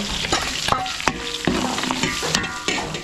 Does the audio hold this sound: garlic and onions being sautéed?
yes